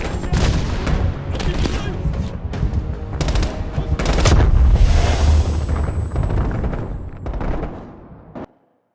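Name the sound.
machine gun fire in Call of Duty Black Ops Cold War video game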